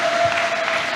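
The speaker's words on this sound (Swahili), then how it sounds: "Pigie Yesu makofi mengi." A church congregation at a Sunday second service claps, a brief dense burst of applause from a crowd.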